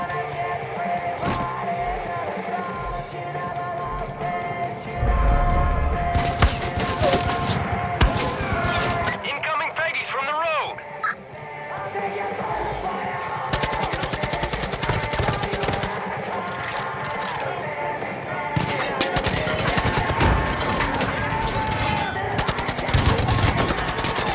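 Machine-gun bursts and heavy mortar thumps crack out in Far Cry 5, rapid fire rattling almost without pause for long stretches, loud and close, with a voice speaking over parts of the din.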